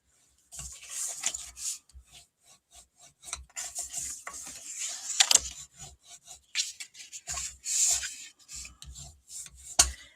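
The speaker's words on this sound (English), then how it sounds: "what we want to do is burnish along these score lines" A burnishing tool rubs back and forth along score lines on card stock, making a steady series of close, dry scraping strokes with brief pauses between passes and no talking.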